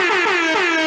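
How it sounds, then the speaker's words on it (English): One loud, sustained air horn blast rings out close by, brassy and unbroken for about a second. "We're getting an air horn maybe if this works."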